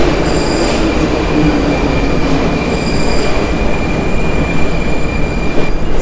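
A Prague metro train rumbles in steadily, wheels squealing with high sustained tones over a loud continuous roar as it pulls into the station.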